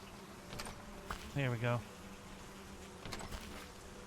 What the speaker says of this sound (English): Hey, bees.